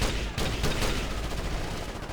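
Gunfire in the tactical shooter Ghost Recon Advanced Warfighter, a dense, loud burst of overlapping shots with sharp cracks early on, then sustained rattling fire and battle noise throughout, without talk.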